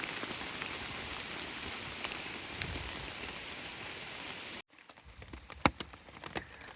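Steady wind-blown rain patters on a hiker's shelter on a solo Ozark Trail thru-hike, a dense even hiss that cuts out abruptly, then gives way to scattered close drops and taps.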